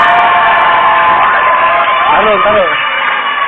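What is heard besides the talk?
audience applause and cheering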